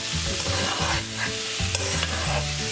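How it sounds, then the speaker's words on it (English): Chicken pasta stir fry being stirred over high heat, with a steady scraping and sizzling in the pan running throughout, close and fairly loud, with a low tonal hum underneath. "High heat, just keep on stirring."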